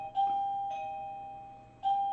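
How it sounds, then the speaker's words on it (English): A home doorbell chiming, three bright electronic ding tones spaced apart, each ringing out with a slowly decaying sustain, near and clear against a quiet room. "That is my doorbell."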